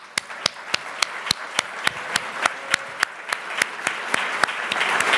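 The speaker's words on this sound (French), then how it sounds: "Et je vais vous demander premièrement de les applaudir." An audience at the Forum A&M event claps for the team, coming across as sharp, evenly spaced claps from a few nearby hands over a softer spread of applause that swells slightly toward the end.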